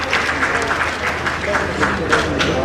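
An audience claps loudly and steadily at a birthday celebration ceremony in India, a dense, continuous wash of many hands with no break.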